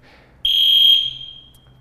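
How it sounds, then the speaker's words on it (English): A fire alarm sounds indoors with a single loud, piercing electronic tone that holds for about half a second before fading out, close and without talking. "That's a fire drill or a fire alarm."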